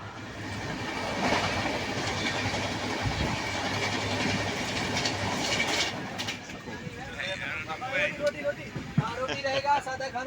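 A passenger train travelling from Chennai to Varanasi in India rumbles and rattles on the tracks, heard from inside a carriage. Later the rumble thins out and people talk nearby.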